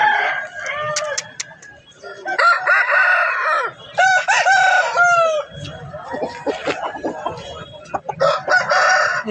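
Roosters crow repeatedly and chickens cluck at a busy poultry market in Balarampur, with several overlapping crows standing out loudly near and far among the flock's chatter.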